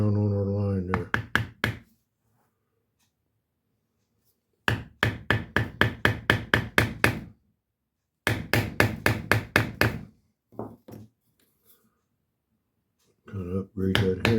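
Rapid, sharp knocks from a mallet striking a leather beveler into tooling leather, in several quick bursts separated by pauses, close and fairly loud.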